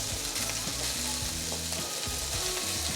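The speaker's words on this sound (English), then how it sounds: "I'm gonna spread it out, making sure that, you know, most of the beef is separated so that all can get an even browning." Ground beef spread across a hot pan for homestyle fried rice sizzles steadily and loudly, a dense continuous frying hiss with low crackle, no voices.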